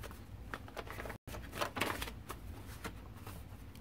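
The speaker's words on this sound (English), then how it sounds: "we are still flipping through all of these pages" Paper pages of a handmade cookbook-themed junk journal, with crocheted trim and doilies, flipped through quickly and steadily, a close continuous papery riffling with soft rustles.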